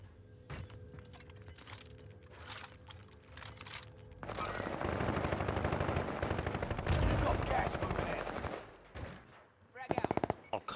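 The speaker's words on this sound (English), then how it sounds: "I'm getting shot by the other team." Automatic gunfire in Call of Duty Warzone on the Caldera map, with scattered shots at first, then a long loud stretch of rapid firing, and voices talking at times.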